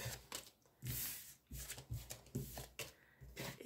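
Oracle cards being shuffled by hand for a weekly love card reading, a close, soft rhythmic riffling and slapping of cards in uneven bursts, alone without talk.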